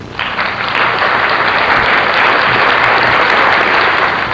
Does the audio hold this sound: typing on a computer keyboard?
no